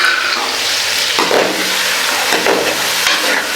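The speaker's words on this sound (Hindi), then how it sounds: "सारे मसाले डाल दिए और अच्छी तरह भून लेंगे।" Spices frying for beef karahi in a pan, a loud continuous sizzle with scraping stirs and occasional utensil knocks, close and without talk.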